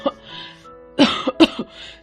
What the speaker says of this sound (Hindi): दोपहर तक उसे जोर जोर से खांसी भी आने लगी